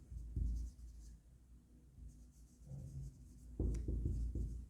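Pen strokes of a new accounting equation being handwritten in a quiet tutorial, a soft scratching that comes in short bursts and grows busier toward the end.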